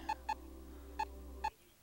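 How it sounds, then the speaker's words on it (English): A food timer beeps four short, high, evenly pitched times, two in quick succession and then two more spaced apart, over a faint steady hum. "food is beeping"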